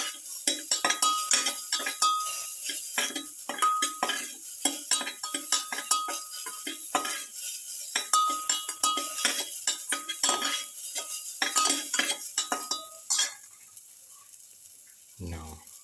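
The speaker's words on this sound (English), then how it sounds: "Celery sauteing." Celery sautéing in a pan for a pepper, potato and pumpkin bowl, heard as a dense run of clinking, scraping utensil strokes against the pan that goes on steadily for about thirteen seconds, then fades to a quiet hiss, with a low thump at the very end.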